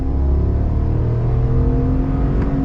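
A 2022 GMC Sierra 1500 AT4X pickup with a naturally aspirated engine runs at full throttle at high elevation, giving a loud, steady roar that builds evenly throughout with no talk over it.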